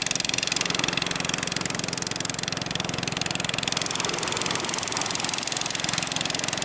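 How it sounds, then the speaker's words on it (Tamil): A fishing boat's engine runs steadily at a beach harbour, a dense, continuous mechanical drone with a fast regular chug throughout, loud and close, with no talking over it. "அந்த போட்டு இன்ஜின் சவுண்டு இவ்வளோ பெரிய இடத்துல அந்த சவுண்டு வந்து சும்மா கணீர்னு கேட்கும் உங்களுக்கு காதில்"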